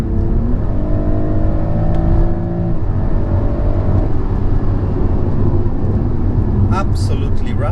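BMW M340i G20 engine accelerating hard, a steady loud drone with rising tones that climb then settle, heard from inside the car under continuous road noise.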